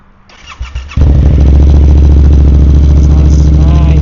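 A Yamaha R7 motorcycle with a full aftermarket exhaust cranks and then fires up, with a few soft clicks before the engine catches. It settles into a loud, steady, close idle.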